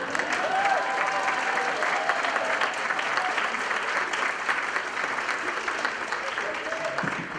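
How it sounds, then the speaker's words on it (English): Steady, full applause from a conference audience at a summit breakfast keeps going for about seven seconds, loud and continuous, with faint voices mixed into the crowd. "please join me in welcoming and giving a round of applause"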